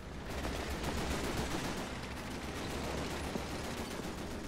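Sustained machine gun fire in the video game Call of Duty 3, a dense, continuous rattle of rapid shots at steady loudness throughout, with no talk over it.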